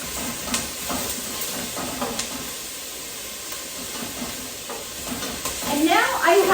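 Finely diced ingredients sizzle and fry steadily in a hot pan, a close, continuous hiss with light stirring scrapes and a louder bubbling burst near the end.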